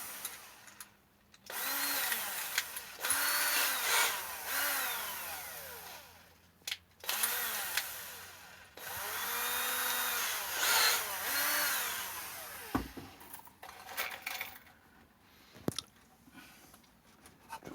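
A power drill driving screws into a car hatch whines up and down in several bursts, pitch rising and falling as it runs, with short pauses between spins.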